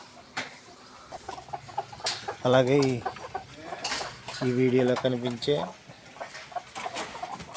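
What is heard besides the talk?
Bhimavaram line hens clucking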